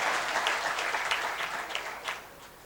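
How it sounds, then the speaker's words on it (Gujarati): An indoor audience gives warm, steady applause to welcome someone speaker at a Gujarati talk, dense clapping that holds for a couple of seconds before tapering off. "ઝરણાબેનને પણ જોરદાર તાળીથી આપણે વધાવીએ"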